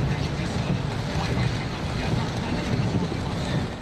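A car drives through a flooded street in central Sibiu after a heavy rainstorm, with a continuous loud wash and rush of water spraying around the wheels.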